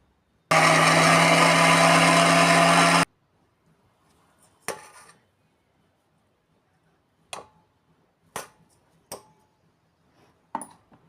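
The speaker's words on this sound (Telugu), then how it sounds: "ఒకసారి మిక్సీ పడదాం" A mixer grinder whirs loudly and steadily for about two and a half seconds while grinding turmeric, garlic and oil. Scattered clicks and knocks follow.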